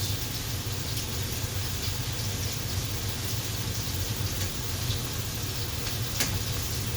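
Chicken searing in a hot pan for Champagne Chicken, a steady, even sizzle that holds at a constant level throughout, close and heard with no talk.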